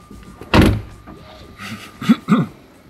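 A frameless door on a BMW iX 40 electric SUV shuts with one loud, close, deep thud, followed by a couple of softer clicks and latch knocks.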